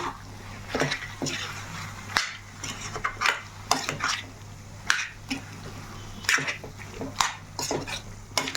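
Curry leaves and cashews stirred into a pan of chicken fry made with dried red chilli paste, a spoon scraping and clinking against the pan in repeated strokes over a steady sizzle, close and alone.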